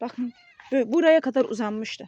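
A cat gives a few short meows close by, overlapped by someone speaking Turkish.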